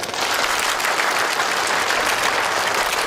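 Steady, dense applause from a crowd fills a banquet hall at a corporate anniversary celebration reception, continuous and loud throughout with no break and no voices standing out.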